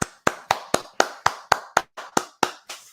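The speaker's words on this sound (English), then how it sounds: "Let's give her a round of applause" One person clapping alone at a steady pace, about a dozen crisp, close claps with even gaps, welcoming a guest onto a talk show.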